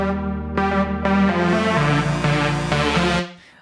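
A bright, harmonically rich synth lead in an EDM build-up plays alone, stepping through sustained notes with a short gap before the last one and fading out at the end.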